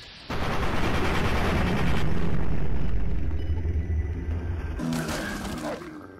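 Gunfire at a Yao Guai creature in the video game Fallout 3: a loud, sustained burst of blasts and crackling impacts that roars for several seconds, then fades with a second surge near the end, no talk over it.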